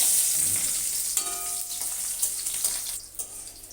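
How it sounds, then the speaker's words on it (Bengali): A few garlic cloves and a little onion frying in oil, a bright hissing sizzle with small crackles and a couple of utensil clinks, the hiss easing off toward the end. "এখানে আমি নিয়েছি কয়েক কোয়া রসুন আর অল্প একটু পেঁয়াজ এইটা আমি একটু ভেজে নেব"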